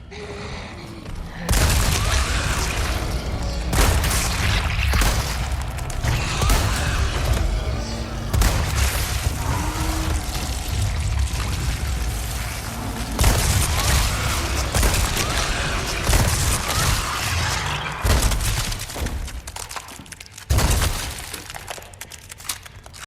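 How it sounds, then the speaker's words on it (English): Ada fires her rifle in Resident Evil 4 Separate Ways, a long loud stretch of repeated heavy booming shots with crashing, shattering impacts, some near-silent gaps, and brief pauses between bursts. "She pulls out her rifle and begins firing."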